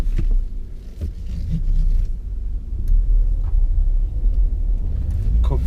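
A V6 Vauxhall Omega rumbles steadily while being driven, a deep continuous engine drone with swells and light knocks from the cabin, rising slightly in the middle and holding to the end.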